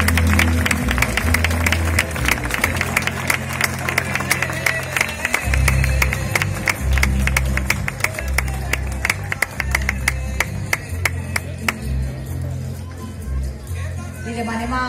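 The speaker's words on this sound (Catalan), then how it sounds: "Així que rebem amb un fort aplaudiment a Joan Safon Pitar" An audience at the Santa Magdalena festival applauds the poster contest winner, a steady round of many hands clapping with a crowd murmur and a thumping low background music throughout.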